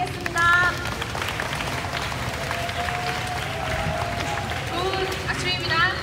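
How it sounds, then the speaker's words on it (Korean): An audience at a training session applauds to welcome an instructor, producing a dense, steady wash of clapping for several seconds with voices mixed in. "큰 박수로 모시겠습니다."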